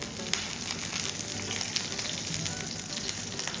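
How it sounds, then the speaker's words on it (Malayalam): Curry leaves and mustard seeds sizzling in hot coconut oil for a Kerala-style okra curry, a steady dense crackle with faint pops throughout, close and fairly loud, with no talking. "കടുക് പൊട്ടിക്കഴിഞ്ഞാൽ നമുക്ക് ഇതിലേക്ക് ഒരു തണ്ട് കറിവേപ്പില ചേർത്ത് കൊടുക്കാം."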